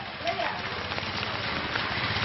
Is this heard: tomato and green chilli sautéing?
no